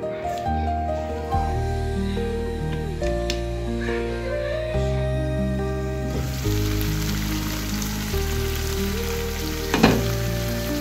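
Spice masala with a little powdered jaggery fries and is stirred in oil for a chicken dish. A continuous crackling sizzle sits under a steady tonal background, with occasional scrapes and no talking.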